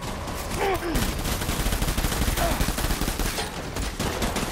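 Sustained rifle gunfire in the Death Stranding video game during a street fight, rapid overlapping shots forming a dense, continuous volley, loud and close throughout.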